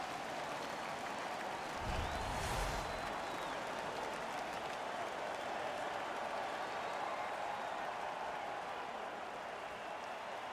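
Ice hockey arena crowd in the NHL 15 video game roars steadily throughout, a dense continuous wash of cheering and applause with a brief low thump near the start and no commentary.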